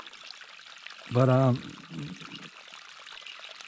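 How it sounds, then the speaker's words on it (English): A small waterfall tumbles down a shallow stream, a steady, soft rushing and trickling heard at moderate distance, briefly interrupted by a voice and some handling noise. "You can hear that water there tumbling down the little waterfall."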